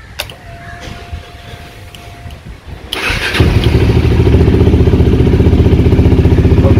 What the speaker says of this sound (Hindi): सो अब स्टार्ट करके देखेंगे हम बाइक स्टार्ट होती है।